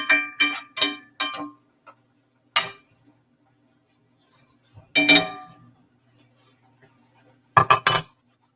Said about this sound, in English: Take this pan, put it in the oven.